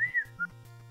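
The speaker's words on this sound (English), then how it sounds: "The one thing I will always enjoy about Deadly Premonition whistling song." A short melodic whistled tune from the video game Deadly Premonition, a few sliding notes over a steady low tone, clear and alone.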